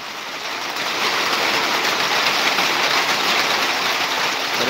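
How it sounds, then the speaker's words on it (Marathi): Steady rain pours down in a continuous, full hiss that swells slightly at the start and then holds evenly. "हे बघा पाऊस पडायला सुरुवात झालो."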